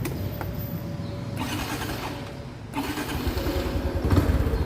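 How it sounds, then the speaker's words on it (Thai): A Honda Wave 110i motorcycle engine starts close by, cutting in with a burst of sound, then settling into a steady, slightly rising idle putter. "อันนี้ก็สตาร์ทเครื่องนะครับ"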